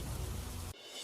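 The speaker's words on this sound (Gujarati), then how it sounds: "અમદાવાદના એસજી હાઈવે વિસ્તારમાં ધોધમાર વરસાદ" Heavy rain pours on the SG Highway area of Ahmedabad as a dense, loud hiss that cuts off abruptly, leaving a quieter wash of noise.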